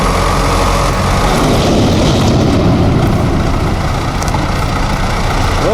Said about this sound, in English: An MTZ-82 pushing a huge water tank with just its front loader.